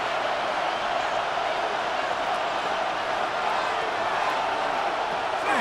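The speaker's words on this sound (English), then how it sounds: "The crowd cranking it up another notch before third and long." A stadium crowd in an EA Sports football video game roars steadily, a dense, continuous wall of cheering that holds at an even level for several seconds with no break.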